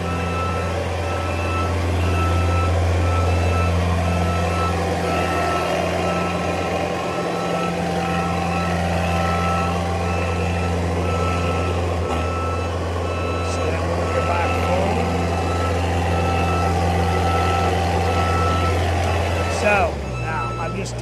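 A 2019 JLG 460SJ boom lift runs in high range at full throttle, its engine a loud, steady close drone with tonal whine that holds evenly and shifts slightly at the end.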